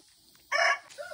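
Chickens in a backyard chicken yard beside a newly built chicken house, with a rooster's loud crow rising abruptly and holding for a moment, followed by softer clucking, no talking.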